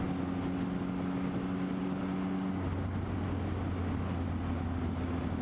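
A 2016 Triumph Speed Triple motorcycle on the move, its engine a steady droning tone that shifts pitch partway through, buried in heavy constant wind rush.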